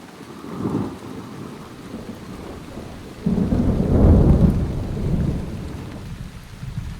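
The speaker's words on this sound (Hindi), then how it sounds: "बारिश अभी बड़ी तेज़ है" Heavy rain pours steadily while rolling thunder rumbles in, swelling into a loud, long roll midway before easing back under the downpour; no voices.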